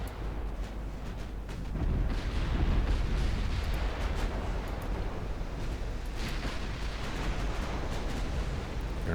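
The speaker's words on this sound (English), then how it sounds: "Can at least return fire on these two" Warship main guns firing during a battle in Ultimate Admiral Dreadnoughts, an Italian ship engaging French armored cruisers, heard as dense, continuous rumbling booms and bursts that swell after the opening seconds and stay loud throughout, with no talking.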